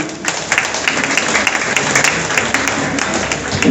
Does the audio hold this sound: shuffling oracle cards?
no